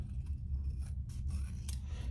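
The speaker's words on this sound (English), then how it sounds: "I think I might clip with my regular scissors, just this little corner right here" Regular scissors clip a small corner of fabric on a hot pink waist pack, giving a few quick, close, crisp snips over a quiet background.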